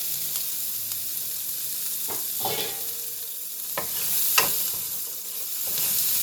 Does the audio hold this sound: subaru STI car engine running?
no